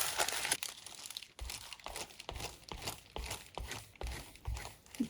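Paper being cut off a junk journal page made from an old envelope book, with close, quiet crinkling and irregular rustling snips and handling noises throughout.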